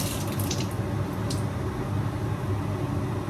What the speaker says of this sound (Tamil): இதை வந்து கழுவி எடுக்க போகிறேன்.